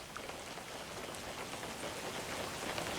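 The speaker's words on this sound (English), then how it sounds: "Oh, and you're still in the rain too." Steady rain falls in a fishing video game, a dense, even hiss of drops on surfaces that holds at a constant level throughout, with no talking.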